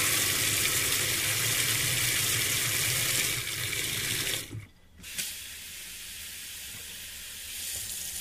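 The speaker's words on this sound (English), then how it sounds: "Nice clean water coming out." Water gushes steadily from an RV sink faucet while the water system is purged after de-winterizing. The hiss stops briefly midway, then resumes and carries on to the end.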